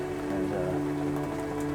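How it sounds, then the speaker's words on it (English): Heavy rain comes down steadily at a Kentucky deer hunting spot, making a dense, even patter with no breaks, heard on its own at a moderate level. "The only downside is the rain is a lot heavier than what we thought."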